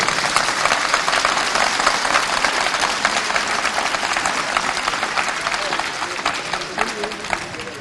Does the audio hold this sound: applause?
yes